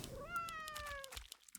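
A cat unit in Legion TD 2 gives one clear, drawn-out meow that rises and then falls, close and fairly quiet, over faint game sounds.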